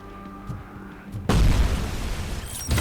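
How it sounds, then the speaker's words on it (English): A grenade goes off in the video game Robocop Rogue City, a sudden loud boom that bursts in after a quieter lead-in and rumbles out over the following second or so. "Oh shit, grenade."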